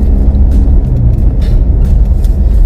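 A 2013 Geely MK car on the move, with a steady, loud low rumble of road and tyre noise over asphalt and faint higher hiss, continuous throughout with no talking.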